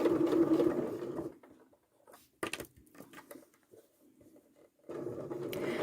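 A sewing machine stitches binding around a garment's neckline and armhole. It runs in two close, steady bursts of motor hum and needle chatter at the start and end, with a quieter pause of faint handling clicks between.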